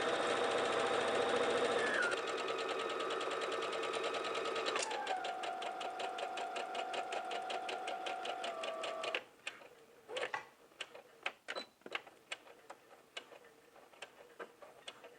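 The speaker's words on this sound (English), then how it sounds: "we're going to start from the hem and sew all the way up to the waist" A sewing machine stitches a skirt side seam from hem to waist in a steady, fast mechanical run that slows partway and breaks into separate stitches and stops near the end, with no talking.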